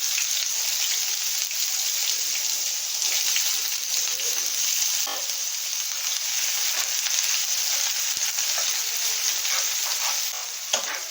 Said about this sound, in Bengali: এবারে আমি এই গোটা গরম মশলাগুলো এতে দিয়ে দেবো পেঁয়াজ কুচি দিয়ে দেবো